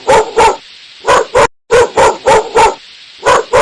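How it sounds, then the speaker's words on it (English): A dog barks in rapid pairs and short bursts, about ten loud, close woofs with brief gaps and no talking. "dog,"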